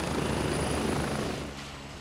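Helicopter rotor and engine noise in the Gray Zone Warfare combat game, a loud steady broadband roar that holds for most of the moment and then eases off near the end, with no speech.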